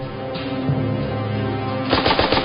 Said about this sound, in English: Seen from above, Maxim gunners sweep the battlefield from side to side.